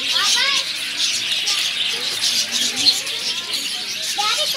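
Lovebirds and parrots calling at Nehru Zoological Park in Hyderabad, a dense wash of bright chirps and squawks, with people chatting and children nearby under the birdsong.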